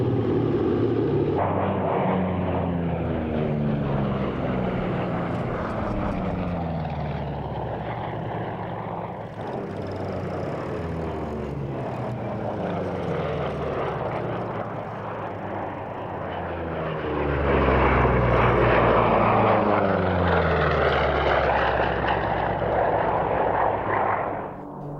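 Sally B, a B-17 bomber fitted with a smoke system, flies past at the 1996 Duxford airshow. Its loud, steady propeller-engine drone holds for the whole clip and swells near the end as it passes close.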